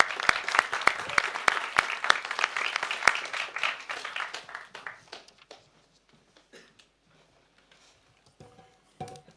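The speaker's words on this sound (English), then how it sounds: "A round of applause for Elisa van der Zanden." An audience applauds a doctoral research finalist at a public competition, with dense clapping that starts loud, fades over several seconds to a few scattered claps and then goes quiet.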